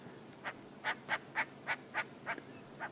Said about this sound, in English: Do wonder what that bird is saying, why it would be talking like that.